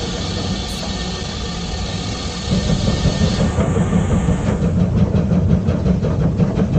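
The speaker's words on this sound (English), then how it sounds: "the sound of the steam engine" A Dartmouth Steam Railway steam locomotive chugs and rumbles along the rails, its rhythmic clatter growing louder and fuller partway through, with a hiss of steam overhead.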